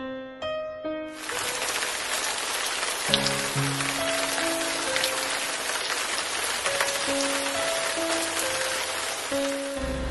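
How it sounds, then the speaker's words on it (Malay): Heavy rain pours down steadily as people near a graveyard in the dark, a dense, continuous hiss of drops on surfaces that fills the whole clip beneath a simple melody of sustained musical notes. "hujan tiba-tiba turun dengan lebatnya"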